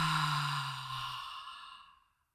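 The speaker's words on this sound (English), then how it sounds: "another nice inhale, and a louder exhale." A loud, drawn-out breath exhaled during a guided breathing meditation, one long sighing release that starts strong and fades away over about two seconds.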